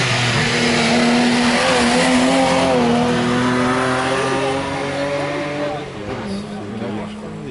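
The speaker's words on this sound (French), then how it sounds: "Le départ dans quelques instants pour André Roussel dit Moustique à bord de sa BMW 325." A BMW 325 historic hill-climb car launches at the start, its engine revving hard with rising, climbing pitch and some tire squeal, loud and close before fading as it pulls away.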